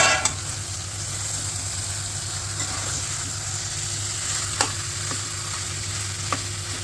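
Marinated mutton goes into hot oil for mutton masala and sizzles loudly and steadily, a dense frying hiss running throughout with a few brief clicks from the pan near the end.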